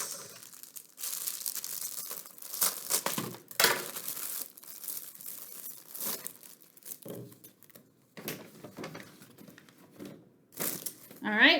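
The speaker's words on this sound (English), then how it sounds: "I opened my next container, put my little straw in" A plastic container is opened and a straw pushed in while making a homemade glass cleaner, giving a run of close crinkling, crackling and tearing plastic noises in bursts with short quiet gaps.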